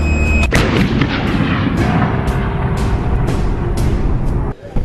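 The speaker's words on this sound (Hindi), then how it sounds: "फायरिंग का ऑर्डर मिलते ही तोपची गोलों को छोड़ना शुरू कर देता है।" An Indian Army artillery gun fires shells in a loud, close blast and heavy boom, followed by a string of further thumping reports under a continuous roaring rumble outdoors.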